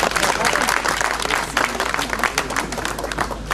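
Hall audience applauding a speech by Manuel Valls at a hospital foundation-stone ceremony in Mayotte, dense clapping sustained for several seconds with voices mixed in.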